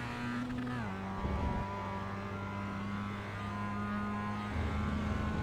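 Mazda MX-5 engine in iRacing at Donington Park, a steady buzzing drone whose pitch dips under braking, then holds and climbs again as the car accelerates, heard alone at moderate level.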